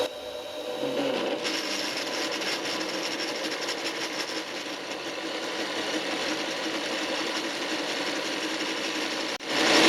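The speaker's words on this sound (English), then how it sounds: "I haven't put a pilot hole in there, I've just put a centre drill in there" A centre drill, with no pilot hole, grinds steadily into metal, a continuous harsh, buzzing whir that holds level for several seconds before cutting off near the end.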